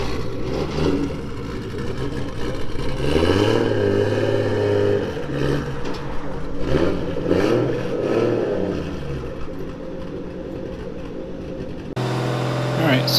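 A Datsun 280Z with a 1JZ VVTi engine swap running on E85 drives gently on a dyno, its engine droning and rising and falling through light revs, steady and loud, with people talking over it throughout.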